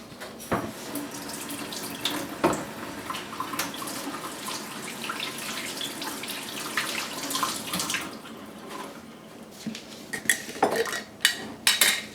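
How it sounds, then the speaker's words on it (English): Tap water runs steadily into a kitchen sink while hands rub and splash under it, with a few clinks near the end. "I'm just going to quickly wash my hand and we'll start."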